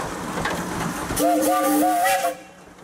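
A steam traction engine whistle sounds at a pioneer engineers' parade, a single chord-like blast lasting about a second over rumbling engine noise and outdoor crowd murmur.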